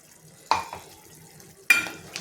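A spoon scrapes through palak paneer simmering in a pan as cashew paste is stirred in, giving two sharp scraping strokes over a faint bubbling background, close by and with no voices.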